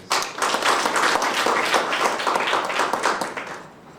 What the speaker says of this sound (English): I think it deserves a very big round of applause